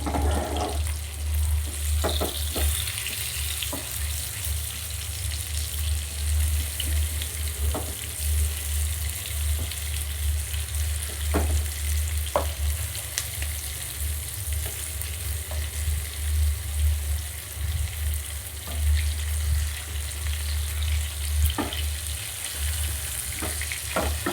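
Anchovies (nethili) fry in a pan with a steady, close sizzle that runs the whole time, broken now and then by sharp crackles and pops and a faint low hum underneath.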